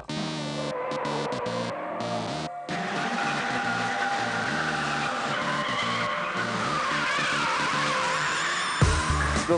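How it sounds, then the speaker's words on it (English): Tires on a drifting car squeal loudly and continuously, screeching against the pavement over a roaring engine, close and sustained, with a brief drop in the noise and a sharp change just before the end. "I listen to the squealing sound of tires"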